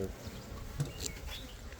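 Honey bees hum and drone around an opened hive heavy with honey, a steady close buzzing with faint chirps and light handling noises underneath.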